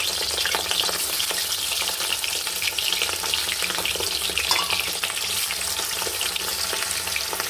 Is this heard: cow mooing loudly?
no